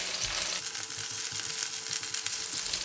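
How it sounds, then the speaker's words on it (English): Garlic, cinnamon stick, star anise and clove frying in hot oil while stirred, a steady bright sizzle with soft scraping movements, close and moderately loud, no talking. "Put in all the garlic, cinnamon stick, star anise, and clove. Give it a stir."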